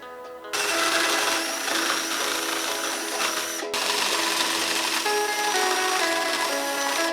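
A power drill drives holes into a wooden board with a loud, steady high-pitched whine, briefly cutting out midway before resuming with the same sustained buzzing.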